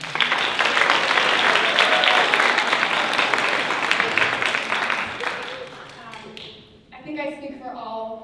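Audience applause welcoming the moderator of an alumni panel on race, identity and privilege: sustained clapping from a crowd for several seconds that tapers off, followed by a voice beginning to speak.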